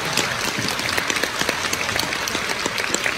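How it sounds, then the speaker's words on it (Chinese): An audience in a theatre applauds at a stage play's premiere curtain call, a steady, dense patter of many hands clapping that lasts the whole stretch, with no talking. "有请掌声"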